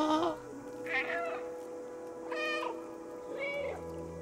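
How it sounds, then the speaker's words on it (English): Several cat meows in the video game Stray, four short harmonic calls spread across a few seconds over a steady low game ambience, close and fairly clear. "Press left alt to meow."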